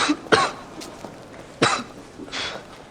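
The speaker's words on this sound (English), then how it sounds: "The smoke from the girl's clothes made her cough uncontrollably" A girl coughs from smoke clinging to her clothes: three harsh, close coughs spaced over a few seconds, each a sharp burst with a short throaty tail.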